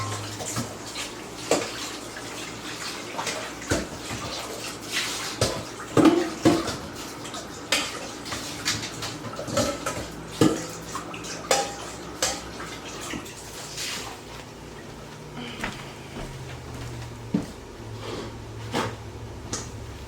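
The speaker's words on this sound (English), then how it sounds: "now I'm going to rinse that bowl out real quick" Water running from a kitchen tap as a bowl is rinsed out, a soft steady splash near the sink with scattered clinks and knocks of the bowl throughout.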